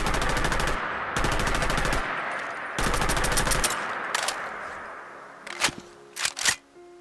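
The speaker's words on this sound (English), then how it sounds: "The prototype EM2 rifle." A prototype EM2 rifle in a Fallout 4 mod fires three loud rapid-fire bursts, followed by a short burst and then a few mechanical clicks and clacks of handling or reloading, with no talk.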